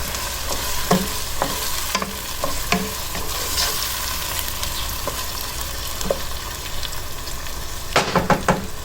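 Tomatoes frying in a pan for a chicken drumstick curry, with a steady sizzle underneath and scattered scraping clicks of a spoon stirring, growing busier near the end; no one speaks.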